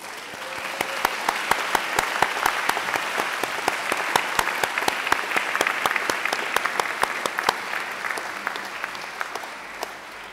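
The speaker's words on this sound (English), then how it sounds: "give them a mighty round of applause" A large crowd at a graduation ceremony applauds steadily for about ten seconds, a dense wash of clapping with sharper individual claps standing out.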